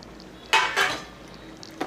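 A metal lid lifts off a covered cooking pot of sweet-and-sour pumpkin curry, giving a sharp clank followed by a second clatter and a faint steamy hiss, then a later small knock.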